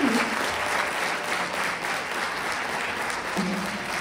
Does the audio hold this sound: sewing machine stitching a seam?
no